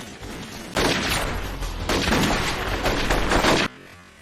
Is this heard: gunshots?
yes